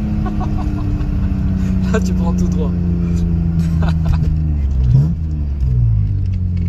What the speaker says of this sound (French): C'est juste que la voiture elle fait beaucoup de bruit.